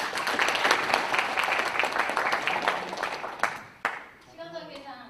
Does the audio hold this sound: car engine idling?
no